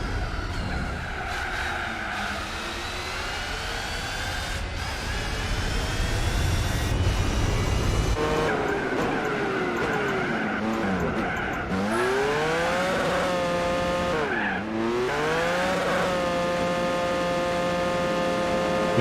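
A worn-out racing car engine in Gran Turismo 4 drones and whines steadily, pitch sliding up and down through gear changes, with tire squeal and skidding, continuous and loud throughout.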